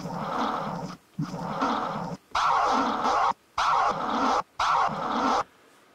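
Repeated scratchy, warbling sample bursts in a choppy rhythm, five segments broken by short gaps, sweeping pitch as if played backward.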